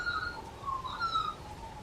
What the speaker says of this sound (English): magpies are considered to be one of the most beautiful of the songbirds in Australia